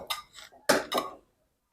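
Spoons clink against dishes and bowls while food is portioned out at home, a few quick bright knocks and scrapes over about a second, close and moderately loud with no talking.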